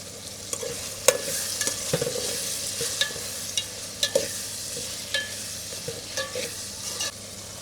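Cucumber pieces frying in oil with ginger-garlic paste for a fish curry, a steady sizzle under repeated sharp clicks and scrapes of a spatula stirring in the pan, close and fairly quiet.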